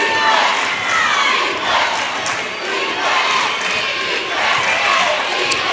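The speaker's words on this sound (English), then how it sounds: "FRA's crowd has finally decided to wake up for the second time in the game" A basketball crowd at a region tournament game roars in a steady, dense wall of cheering and shouting, with voices surging and overlapping throughout and no pause.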